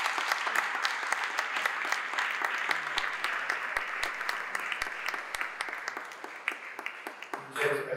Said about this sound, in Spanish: me parece un aplauso de todos súper grande